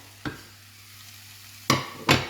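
Chopped red and green peppers cook with onions in a pan over a faint low hum, broken by three sharp scraping stirs, one early and two close together near the end.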